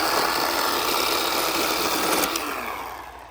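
A Bauer chainsaw from Harbor Freight, freshly sharpened, cuts through firewood with a loud, continuous raspy whine that tapers off slightly as the cut finishes.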